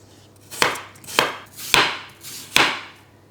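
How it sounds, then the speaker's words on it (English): A knife slices through apples on a board in four crisp, evenly spaced strokes, each a sharp close cut with a short ringing tail. No one speaks. "The key here is to slice them really thin."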